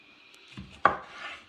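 A single sharp knife stroke through a tomato on a cutting board, preparing vegetables for an Asian spicy soup, preceded by a softer scrape and followed by a quiet kitchen hum.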